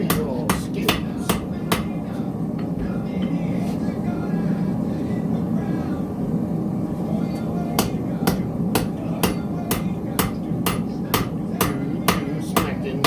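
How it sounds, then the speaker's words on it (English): Iron struck with a blacksmith's hammer: a quick run of sharp ringing blows at the start, then a long, steady, evenly spaced series of strikes, all over a constant low rumbling background. "You smacking iron or metal. Let's smack."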